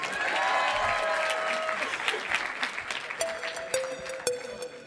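Crowd applause at a national mentoring summit plenary session, loud and dense at first, then thinning into scattered claps with whistles and cheers near the end.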